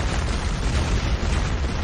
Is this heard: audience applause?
no